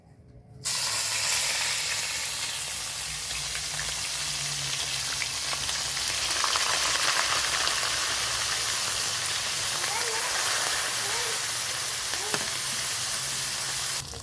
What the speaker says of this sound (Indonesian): Lanjut mau goreng pindang,